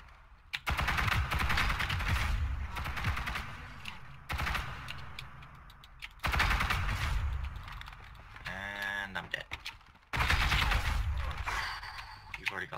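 Weapon fire in a GITS shooter match, several separate bursts of loud, rapid shots with short gaps between them, mixed with mechanical game sounds.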